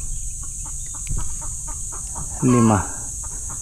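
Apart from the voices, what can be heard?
chickens clucking on a farm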